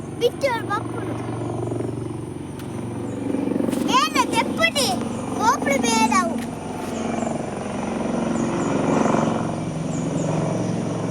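A helicopter passes over a green village, giving a low, steady droning rumble that sounds fairly distant. High chirping calls and voices rise and fall above it.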